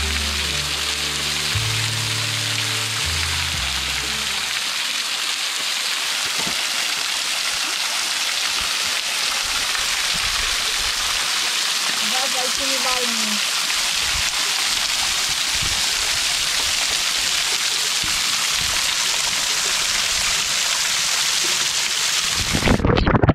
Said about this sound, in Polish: Po naszej lewej stronie słychać niezły potok,